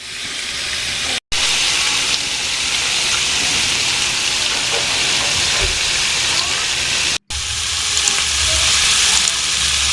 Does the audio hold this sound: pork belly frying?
yes